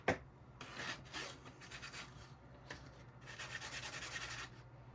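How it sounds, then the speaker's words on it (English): Quiet, steady rasping strokes of sanding on a small piece of polymer clay, rubbing back and forth in a loose rhythm with no talking. "so I'm going to finish sanding that little section down."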